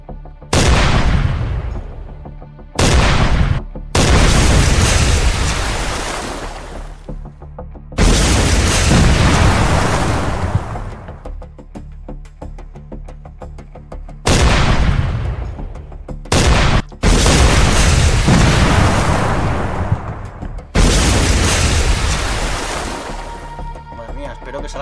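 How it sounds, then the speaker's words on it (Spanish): Heavy gunfire bursts of around twenty shots each in the naval combat game Command: Modern Operations, long loud booming volleys separated by short pauses, repeating several times. "no me esperaba que fueran ráfagas de 20 disparos"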